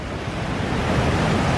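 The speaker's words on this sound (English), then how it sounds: "Look at those two waves." Ocean waves break in the Maldives as a continuous, broad wash of surf noise, loud and steady with some wind buffeting the microphone, no voices.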